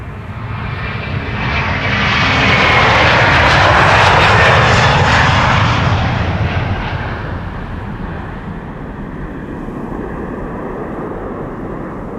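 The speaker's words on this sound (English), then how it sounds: "the next airplane taking off is coming. It is an A330-200." A KLM Airbus A330-200 jet taking off at Amsterdam Schiphol, a powerful roaring engine rumble that swells to a loud peak over several seconds and then fades gradually as the aircraft climbs away.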